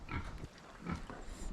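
Pigs in an outside pen that was once lush and green, now bare dirt, make soft grunts and snuffles in a few short bursts, faint and close, with no voices.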